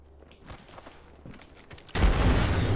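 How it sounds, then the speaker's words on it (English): A grenade blast in a shooter game, a sudden loud explosion that lands after a couple of seconds of faint scattered footsteps and clicks, then leaves a dense, roaring, rumbling wash that carries to the end. "Grenade flung."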